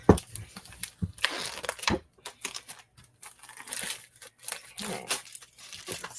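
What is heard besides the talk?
opening a Paper Pumpkin craft kit package, crinkling paper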